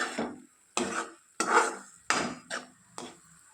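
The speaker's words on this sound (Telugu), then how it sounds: "బాగా కలిపి మధ్య మధ్యలో కలుపుతూ ఉండాలండి అడుగంటకుండా ఇలా కలుపుతూ ఉండాలి" A spoon stirs spinach and onion curry in a pan, giving about six separate clattering, scraping strokes with short pauses between them, close and fairly loud.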